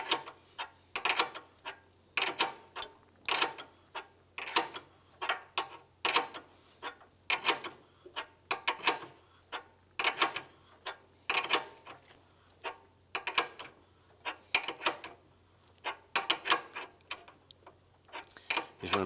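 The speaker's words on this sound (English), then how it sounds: "Using our 19mm wrench, let's go ahead and snug that down into position." A 19mm wrench snugs a fitting into the radiator of a 1995-2001 Ford Explorer, giving a steady run of quick metallic ratcheting clicks in short bursts, close and moderately loud, with no talking.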